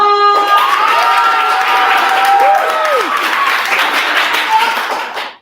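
A live summit audience breaks into loud, sustained clapping and cheering with excited shouts, the crowd noise dense and steady for several seconds before fading out abruptly at the end.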